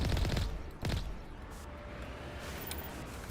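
Gunfire in the Mass Effect video game, two sharp loud shot bursts close together at the start followed by a lingering rumble of background battle noise.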